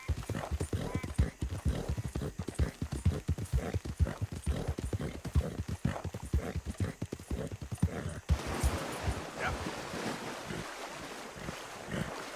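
A horse's hooves clip-clop at a steady trot in Red Dead Redemption 2, a rapid, even rhythm of close thuds that fades into wind and rustling ambience for the last few seconds.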